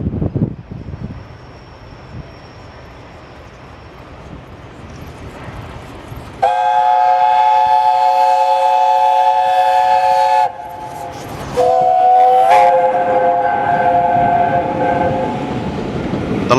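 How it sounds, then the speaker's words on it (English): Steam locomotive 60163 Tornado arriving at York station on a run from London, a low rumble of approach giving way to a loud, sustained multi-tone whistle blast, a brief pause, then a second long whistle close by. "we are here at York to see 60163 Tornado pulling into the station from London."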